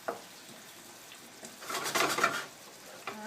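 Onions frying in a pan over medium-high heat for lomo saltado, with a soft sizzle that swells into a louder burst of stirring and scraping near the middle before settling back down.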